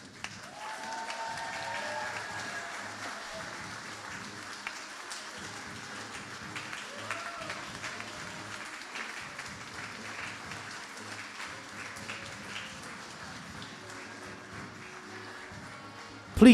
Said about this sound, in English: please remain standing and applaud your graduates